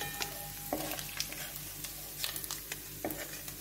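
Mustard seeds and dry red chilies temper in hot oil left from frying small fish, giving a quiet sizzle with scattered pops and crackles and a few faint clinks.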